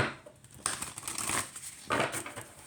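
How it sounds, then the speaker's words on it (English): Tarot-style card deck being shuffled by hand, two bursts of crisp riffling and flapping cards separated by quieter pauses, close and without talk. "Hand shuffle."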